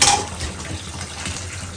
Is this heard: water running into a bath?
yes